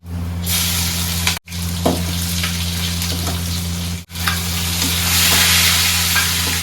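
Samosa vegetable filling sizzles and fries steadily in a pan while being stirred, with a loud, continuous hiss broken by two brief pauses and occasional scraping strokes.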